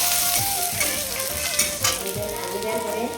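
Potatoes fry in a pan for a bata fish curry with brinjal, cooked without spices: a steady, close sizzle with scraping stirs throughout, and faint tonal music running underneath.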